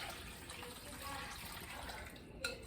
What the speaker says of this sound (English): Now I'm going to take this mixture and I am just going to pour it over this.